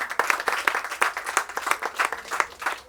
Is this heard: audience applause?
yes